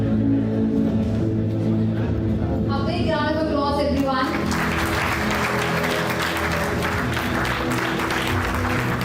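An audience at a session of a formal talk event breaks into sustained applause, a dense, loud wash of clapping that follows a moment of voices and continues steadily to the end.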